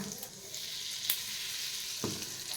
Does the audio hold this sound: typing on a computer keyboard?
no